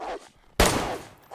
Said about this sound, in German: Ich höre eure Schüsse, ey.